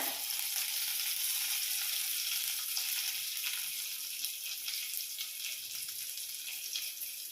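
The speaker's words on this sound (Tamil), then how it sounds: "கடுகு போட்டிருக்கேன் கருவேப்பிலை" Mustard seeds and curry leaves tempering in hot sesame oil, a fairly quiet, dense, steady hiss of frying close by with faint crackle, no talk.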